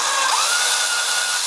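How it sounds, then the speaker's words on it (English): A loud, steady whine of a power drill boring through wood for earthing a double humbucker guitar pickup kit, continuous and close with no pauses. "Just let the drill do the work."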